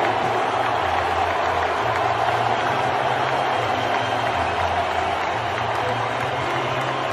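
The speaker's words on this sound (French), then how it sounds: "avec les nombreux applaudissements" A large crowd applauds continuously, a dense wash of clapping and cheering that stays even and loud, with a low hum underneath.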